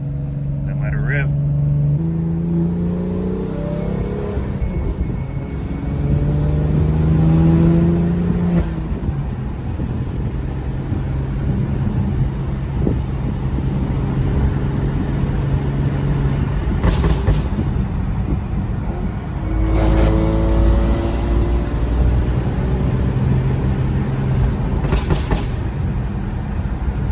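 BMW M3 accelerating hard on a twisty mountain road, the engine note climbing in repeated rising sweeps through the gears with brief lifts between pulls, loud and steady under constant road and wind roar.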